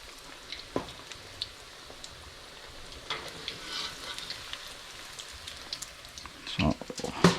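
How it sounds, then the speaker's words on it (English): Chicken fingers deep frying in hot oil on their first fry, a steady faint sizzle with scattered pops and a few louder bubbling bursts near the end. "first fry, we only leave them in for a little bit till they turn golden."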